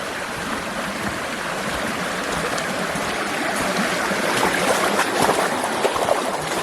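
Water rushes and splashes steadily as a 4-wheel drive fords a small rain-swollen stream near Lake Rotoroa in Nelson Lakes National Park, a continuous close washing roar building slightly toward the end.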